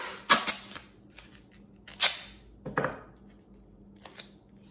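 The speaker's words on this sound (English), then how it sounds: "I'll use duct tape. It's good for lots of things. And tear off a piece." Duct tape being pulled and torn from the roll at a silver etching workbench: several sharp, crackling rips in short bursts, close and fairly quiet, with brief pauses between them and no talking.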